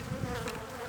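Dense, steady buzzing of many honey bees around an open hive during an inspection, close and continuous with no voices.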